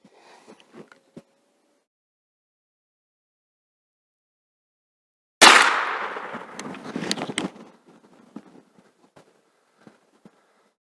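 A single loud shot cracks out at circle-breaking shooting practice with a target 9 metres away. It is a sharp, close blast followed by a rattling decay and a few scattered small clicks, in otherwise quiet surroundings.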